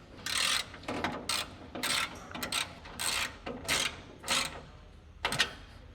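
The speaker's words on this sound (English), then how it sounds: "And we'll tighten the nut on that as well." A wrench ratcheting to tighten a nut on the door glass mechanism of a 1968–69 Camaro, heard as a series of close, crisp clicking bursts in an uneven rhythm, about eight strokes with short pauses.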